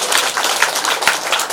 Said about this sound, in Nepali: हामी ताली बजाउनेछौँ।